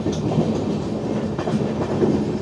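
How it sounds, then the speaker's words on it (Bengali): Passenger train from Kolkata pulling into Goalpara Town station in Assam, steady rumble of wheels with clickety-clack rhythm over rail joints, close and continuous with no talking. "ট্রেন ঢুকছে গোয়ালপাড়া টাউনে"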